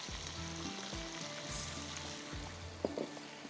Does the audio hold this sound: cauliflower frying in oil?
yes